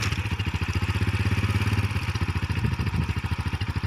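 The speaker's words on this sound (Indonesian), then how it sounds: "Kita coba starter dengan posisi netral." A 1999 Honda Supra X motorcycle with a modified clutch runs after an electric start in neutral, its small engine putting out a fast, even, close putter that holds steady for several seconds.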